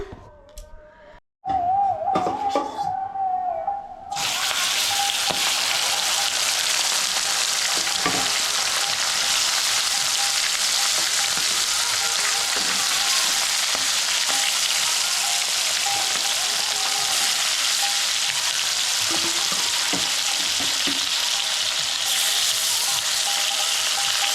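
Fish fries in a hot pan in a home kitchen, a loud, dense, continuous sizzle that starts abruptly after a few seconds of quieter clatter and then holds steady close up, with occasional small knocks and no talking.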